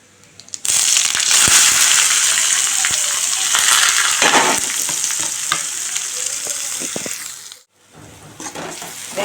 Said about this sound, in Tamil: வெங்காயம் இந்த மாதிரி நைஸாக வெட்டி வச்சுருக்கோம், இதையும் போட்டு தாளிச்சுக்குவோம்.